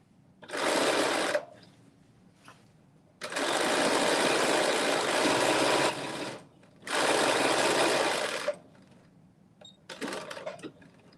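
A sewing machine runs a stay stitch on knit fabric in three loud whirring bursts, the middle one longest, with short pauses between and soft handling noises after.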